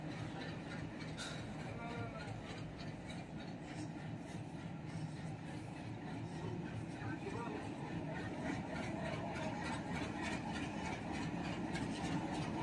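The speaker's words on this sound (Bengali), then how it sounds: "সামনে দেখতে পাচ্ছেন diesel locomotive, double diesel locomotive এবং 10টা ববিয়ান লোড নিয়ে একদম গাড়ি ব্রিজ লোড টেস্ট ক্যাপাসিটি চলছে।" Double diesel locomotive hauling ten loaded wagons across the Nashipur rail bridge during a load test, a deep continuous engine rumble with rolling rail noise, heard from nearby under ongoing talk.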